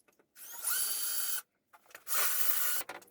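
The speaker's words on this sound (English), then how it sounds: "we're going to drill the hole for the shower head." Hole saw drilling through DensShield board in a bathroom remodel for a shower head opening, two loud whining bursts of about a second each separated by a short pause, close up with no talk.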